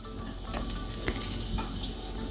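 Cauliflower and potato pakoras fry in oil in a kadhai over a medium flame, giving a steady, soft sizzling hiss with faint bubbling throughout and no talking.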